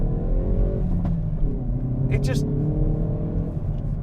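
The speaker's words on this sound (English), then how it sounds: "When you floor it, you get upshifts and you get pops and crackles." A Hyundai i30N hot hatch accelerates hard, its exhaust drone rising with a short crackling burst midway, heard from inside the car under a voice.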